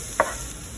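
A spoon scrapes once through a vegan quinoa stir fry with garlic in a pan, a single brief stir over a soft background hiss.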